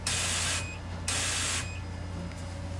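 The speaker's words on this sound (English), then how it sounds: "place the clean function here so you guys can see how those nozzles" Two short bursts of hissing spray from the nozzles of a Ricoh DTG pretreatment unit running its clean function, each about half a second, separated by a pause over a low steady machine hum.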